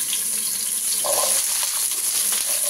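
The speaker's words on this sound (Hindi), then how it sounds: "घी मेरा गर्म हो गया है, अब मैं इसमें जो पानी फल हमने धो के रखा था उसको इस तरह से डाल दे रही हूँ।" Washed water chestnuts sizzle and crackle in hot ghee, a steady close hiss of frying with a brief burst of spattering partway through and no talking.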